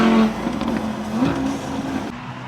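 A car with a quiet exhaust drives along a mountain road, giving a steady, subdued engine hum and a brief rising rev, with no one speaking.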